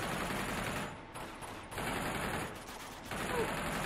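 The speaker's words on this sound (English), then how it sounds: "Just taking people to the ground with this turret" Sustained mounted turret gunfire in Uncharted 2: Among Thieves, a dense rattling fusillade in a fairly faint, continuous stream with brief dips between bursts.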